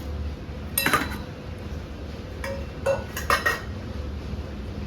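Grated coconut and jaggery go into a bowl for ragi puttu, heard as a few sharp clinks and knocks of a spoon against metal dishes over a quiet kitchen background.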